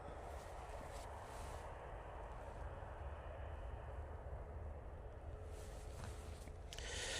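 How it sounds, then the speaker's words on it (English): A Pegasus Airbus A321neo airliner arriving from Istanbul, heard as a steady, moderately distant broadband jet roar that holds level throughout and swells slightly at the end. "this is the Pegasus A321neo coming from Istanbul"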